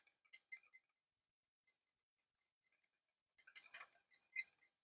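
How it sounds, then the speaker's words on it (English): Salad dressing with salt being whisked in a bowl, sparse light metallic clinks and taps, a quiet gap, then a quicker cluster of clinking strokes near the end. "Give this all a good whisk"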